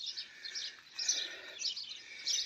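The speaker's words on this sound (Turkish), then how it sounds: "Cıvıl cıvıl kuş sesleri, ondan sonra karga sesleri" Birds chirp and sing in a quiet village, a faint, continuous twittering of high, rapid calls rising and falling in short bursts, with no voices.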